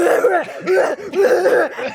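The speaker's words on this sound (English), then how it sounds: "Gumshoe just coughs the whole time" Gumshoe, a detective character in an Ace Attorney courtroom game, lets out a quick run of loud, rough coughs and throat-clearing bursts, close and alone, repeating in a choppy rhythm.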